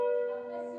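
A large bell rings in an old working bell foundry, a single sustained metallic tone with a clear pitch and shimmering overtones that slowly decays.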